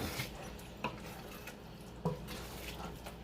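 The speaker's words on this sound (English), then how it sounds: "Just a little bit water and then the steam will cook it." A little water goes into a pot of village-style Ghana jollof rice, with faint pouring and a few light clinks of pot and utensil in a quiet kitchen.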